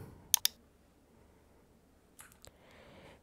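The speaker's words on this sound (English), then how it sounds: "And click on scan for plagiarism." A computer mouse clicks a scan-for-plagiarism button in a web checker: two sharp, close clicks early on, then a quieter pair of clicks near the end, with near silence between.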